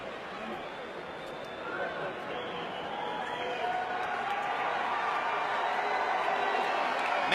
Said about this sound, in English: Mexican fans booing Pacquiao as he stands up on the ropes to celebrate